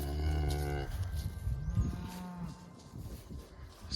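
A Limousin-cross cow at a cattle feeding lets out a loud, close, drawn-out moo at the start, followed by quieter shuffling and low farmyard noise, with no talking.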